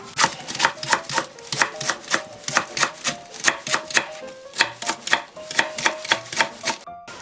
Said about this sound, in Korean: 송송송송 썰어주세요